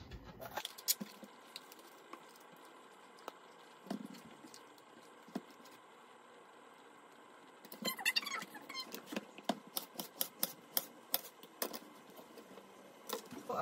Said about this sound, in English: First I'm gonna cut up the pepper.